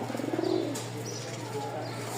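Pigeons cooing softly at close range, a short rolling coo followed by fainter calls over low background hum.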